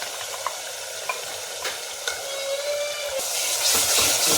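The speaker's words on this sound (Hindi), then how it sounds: "अब भून लेंगे थोड़ा से और, क्योंकि डाला है मसाला तो उनको भूनना पड़ेगा।" Chili, coriander and spice masala fry steadily in oil in a pan for egg and potato curry, a continuous close sizzle broken by a few light scraping stirs and swelling louder near the end.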